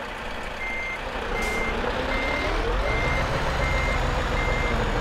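A truck in the Euro Truck Simulator 2 game backs up, its reversing alarm sounding a steady series of evenly spaced beeps over a low, constant engine rumble.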